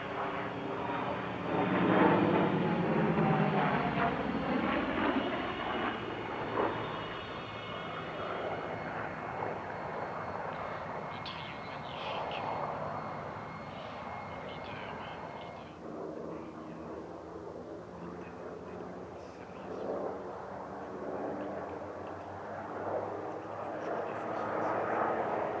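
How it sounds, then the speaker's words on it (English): A P-38L Lightning flanked by an F4U Corsair and a P-51D Mustang in formation at an airshow, piston engines droning loudly as they pass overhead, peaking early then fading to a distant hum. "P-38L Lightning, the only Lightning flying in Europe, flown by Raymond Reidman. It's flanked by an F4U Corsair flown by Eric Goujon and a P-51D Mustang"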